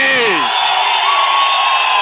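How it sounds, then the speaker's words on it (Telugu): A large crowd at a political rally cheers loudly in a continuous, dense roar, with a voice shouting over it at the start. "మీ చప్పట్లే చెప్తున్నాయి మీ ఆమోదాన్ని"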